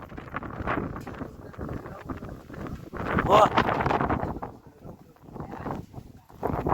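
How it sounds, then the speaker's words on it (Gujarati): Strong wind on Girnar mountain buffets the microphone in uneven gusts, loudest in the middle, while someone talks over it. "આમાં અવાજ તો નહીં સંભળાતો હોય કેમ કે એટલો પવન છે."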